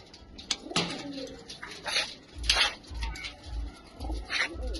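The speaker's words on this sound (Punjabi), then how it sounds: "ਇਹ ਨੇ ਕਬੂਤਰ ਆਪਣੇ" Soft pigeon coos repeat in low rhythmic bursts, with scattered bird calls and rustling around them, fairly close.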